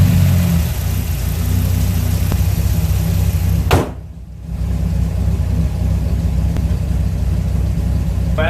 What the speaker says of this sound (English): start her up and let her idle for 15 minutes